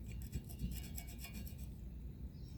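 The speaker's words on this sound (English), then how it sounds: "I'm using a small screwdriver here just to check, make sure." A small screwdriver scrapes a part of a 1978 Kawasaki KZ650 motorcycle engine, giving a quiet, close, rhythmic scratching and rubbing that fades near the end, with no talking.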